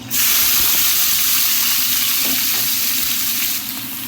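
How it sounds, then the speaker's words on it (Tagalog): Shrimp dropped into hot butter in a pan for an Arabic-style curry shrimp with potatoes, bursting into a loud, close, continuous sizzle and spatter that holds steady for a few seconds without any talk. "Then ilagay natin yung ating hipon."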